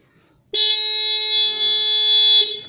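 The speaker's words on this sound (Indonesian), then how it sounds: "klaksonnya harus nyala ya, sebagai alarm seperti itu" A Yamaha NMAX horn triggered by a Protech smart key alarm blares in one sustained, loud, close honk lasting about two seconds after a quiet start, then cuts off.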